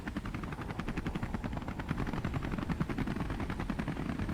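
Strong helicopter in a physics engineering video game lifting a base roof, a dense continuous rapid rotor chop with mechanical clatter, loud and steady throughout.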